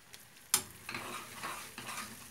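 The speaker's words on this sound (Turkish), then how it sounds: "İkisini birden kavuruyoruz." Semolina and flour roast together in a pan for cheese halva, with quiet scraping stirs and a soft, dry sizzle. One sharper clink stands out early on.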